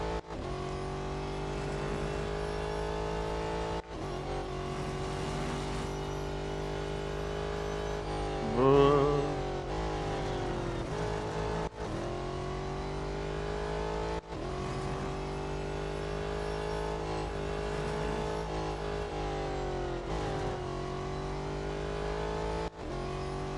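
Race car engines in Real Racing 3 drone loudly and continuously, with steady high revs, brief cuts in power and a short squeal midway, with no talking.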